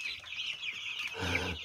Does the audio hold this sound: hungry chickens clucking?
yes